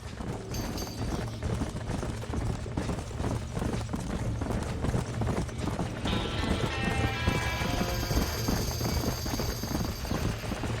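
Horses in a burning barn in the Red Dead Redemption video game: rapid, overlapping hoof clatter and stamping fill the scene, with mechanical rumble underneath and a bright ringing tone joining partway through.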